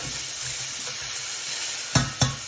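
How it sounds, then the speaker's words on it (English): Broccoli and pepper stir-fry in a hot pan, a constant close sizzling hiss, then two sharp knocks of the utensil against the pan near the end. "And give this another minute or so to stir fry"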